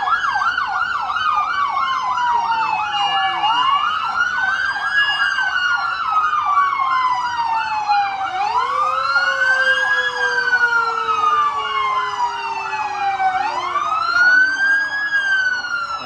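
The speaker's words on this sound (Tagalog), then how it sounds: "matindi yung wangwang ah." A loud siren wails continuously, rising and falling, with overlapping sirens of different pitches sweeping together as emergency vehicles pass nearby during a festival parade in Catbalogan City, Philippines.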